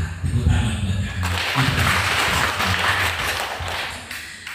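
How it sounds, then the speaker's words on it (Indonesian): An audience claps in applause for a participant at a gathering, a moderate, steady patter of hands lasting a few seconds, with a short voice beforehand. "Tepuk tangan buat kakak."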